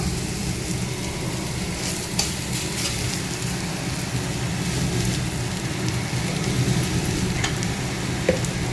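Leafy greens frying in a pan with a little plain salt: a continuous soft sizzle and crackle, like light rain, with occasional faint clicks from stirring and no talking.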